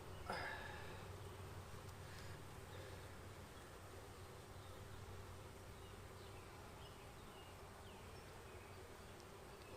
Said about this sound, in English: Big cluster of bees hanging off the bottom.